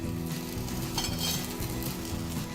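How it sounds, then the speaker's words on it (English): Semolina-topped bread toast fries in a little oil on a pan after being flipped, a continuous close sizzle with faint scraping of a utensil. "we'll allow it to cook for few more minutes so that it becomes crisp from other side as well"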